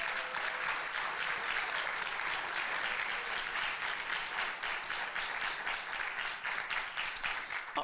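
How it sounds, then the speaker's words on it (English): Steady, dense clapping from the audience at the Brush High School Winter Band Concert in 2024, a sustained crowd of many hands filling the hall at even loudness. "you can clap for that"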